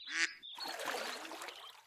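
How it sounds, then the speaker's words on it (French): A duck quacks once, short and nasal, in a children's cartoon about farm animals, followed by a soft, noisy cartoon backdrop. "Un canard."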